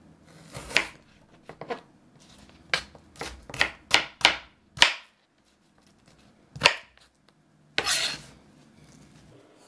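A knife chops an onion on a cutting board in a rustic Italian kitchen, a quick run of sharp clicking taps then a few scattered strokes, close and fairly faint with no talk over them.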